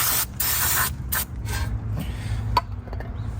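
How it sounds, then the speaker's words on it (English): An aerosol cleaner sprays down the brake caliper pistons of a Honda Pilot during a front brake job, several short hissing bursts close to the mic with pauses between them. "Just give them a little spray down"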